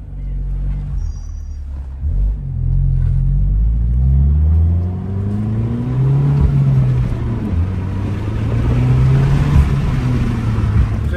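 A Peugeot 208 GTI engine purrs steadily while driving, a deep close rumble with smooth rising and falling revs through several gear changes, loud and alone.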